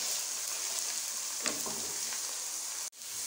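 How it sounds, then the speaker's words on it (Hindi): Onions frying in a pan, a steady close sizzle throughout with a couple of brief scraping stirs partway through and a short break near the end. "प्याज को मैं साथ साथ हिला रही हूँ कि किनारों से ये जल ना जाए।"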